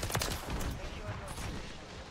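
Renetti pistol fire in Call of Duty Modern Warfare 3 multiplayer, a quick burst of close, loud shots packed into the first moments and trailing off into game noise.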